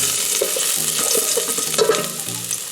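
Small chopped garlic dropped into hot oil, a loud close crackling sizzle with stirring scrapes over a few seconds, no voices.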